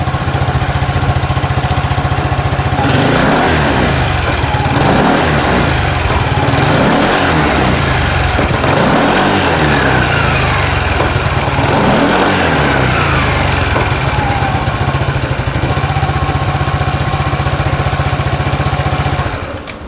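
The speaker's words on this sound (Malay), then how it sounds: "So jom kita rem sikit." A QJMotor LTR 150 motorcycle engine idles steadily, then revs up and down repeatedly in rising and falling bursts before settling back to a steady idle, loud and close.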